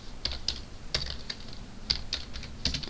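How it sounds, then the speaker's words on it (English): Steady typing on a computer keyboard during a Python programming lesson, with a quick, irregular run of close, crisp key clicks and a few sharper taps, and no voices. "come on keyboard"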